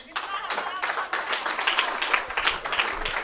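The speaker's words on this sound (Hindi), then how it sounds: "तालियां बजती रहें।" Audience at a Hindi poetry gathering (kavi sammelan) in the Delhi Assembly claps for a poet, a brisk burst of hand clapping with a voice faintly audible underneath.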